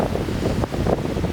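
Strong wind at a forest stay in the Anamalai Tiger Reserve, a loud, close, continuous roar buffeting the microphone with no voices.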